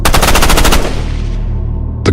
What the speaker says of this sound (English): The gunfire is deafening.